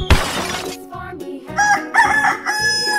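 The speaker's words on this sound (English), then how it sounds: "Chicken." A rooster crows close by in a few rising, strained calls among other scattered noises at an escape-room animal-door challenge, with no talking.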